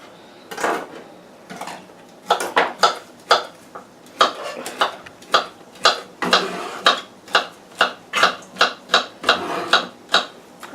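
Knife chopping celery on a cutting board, with a run of sharp, rapid taps in an irregular then steady rhythm, close and clear with no talking.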